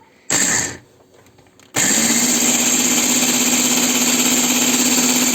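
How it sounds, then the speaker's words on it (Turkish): Food processor grinding hazelnuts into cream: a short loud whir that stops, then the motor restarts and runs at a steady, loud, continuous buzzing whine close by. "fındığımız kremaya dönüşünceye kadar robottan geçiriyoruz"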